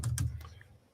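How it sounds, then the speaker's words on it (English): Quick clatter of computer keyboard typing, a few close keystrokes bunched at the start and then fading over a low room hum, with no talk. "Can you hear my typewriter? My typewriter keyboard."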